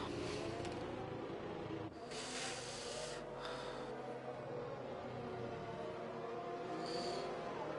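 Race cars drive into the pits in a racing video game at a Belgian round, with continuous engine drone and a few brief revving swells mixed together.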